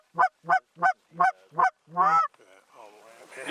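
Canada goose honking up close, five loud evenly spaced honks followed by a longer, rougher call, then quieter background noise.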